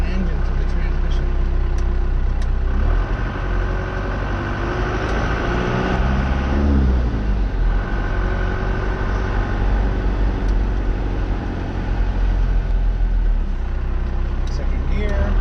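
A 4x4 truck's engine drones steadily through a swapped five-speed transmission, heard from inside the cab as a continuous low rumble with a gear change partway through, while someone talks over it.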